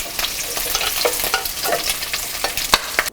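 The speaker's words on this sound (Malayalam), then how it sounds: "അങ്ങനെ എല്ലാ ഡക്കിൻ്റെ പീസുകളും ഫ്രൈ ചെയ്തെടുക്കുക." Duck pieces frying in oil, a loud, close, continuous sizzle with sharp spitting crackles and occasional clicks of a utensil, no voices.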